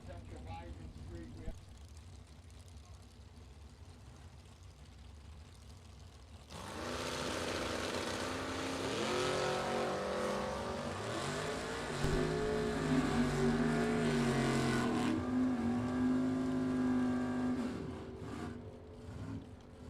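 Drag racing cars, a 1965 Malibu and a 1971 Vega, launch with a sudden loud roar that builds into a sustained, rising engine howl before fading, while an announcer talks over the track noise.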